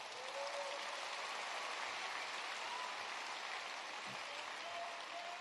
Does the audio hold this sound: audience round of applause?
yes